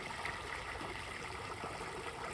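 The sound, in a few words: water trickling from a garbage-bag boat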